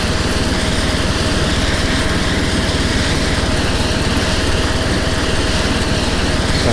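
Engine and rotor of an Mi-24 Hind helicopter in the Take on Helicopters flight simulator game, a steady, loud, continuous whine with a fast rotor pulse throughout, with no talking.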